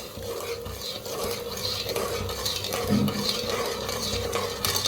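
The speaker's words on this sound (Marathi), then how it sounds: "सारखं हलवत राहायचं नाही तर साखर करत ते असं हलवत पाक बनवून घेऊया" A spoon is stirred through sugar syrup of two cups of sugar and one cup of water in a pot for boondi, making continuous scraping, swishing sounds over a soft bubbling simmer.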